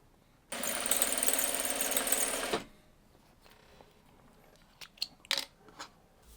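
A sewing machine stitches a quilt block in one steady, fast whirring burst of about two seconds, then stops, followed by a few faint clicks and handling noises.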